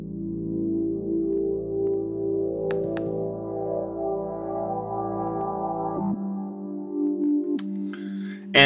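Warm synthesizer pad plays a two-chord progression in an Ableton session, one sustained chord for about six seconds then shifting to the second, steady and alone with faint clicks near the end.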